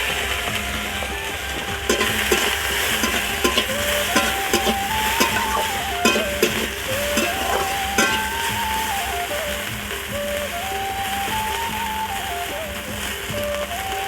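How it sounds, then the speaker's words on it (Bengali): Prawns fry in oil in a kadai with a loud, continuous sizzle, while a utensil stirs and scrapes against the pan in regular, repeated strokes throughout. "আর তার সাথে বাটিতে যে চিংড়ি মাছ রেখেছিলাম এখন আমি কড়াতে উঠিয়ে দিচ্ছি"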